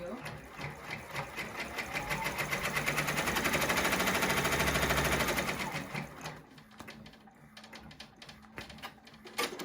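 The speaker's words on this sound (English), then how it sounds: "it's going to put the placement stitch in there for our pink material" An embroidery machine sews a placement stitch for pink appliqué fabric, a rapid rhythmic mechanical needle chatter that swells louder mid-clip and then thins into sparser clicks, with a voice faintly under it.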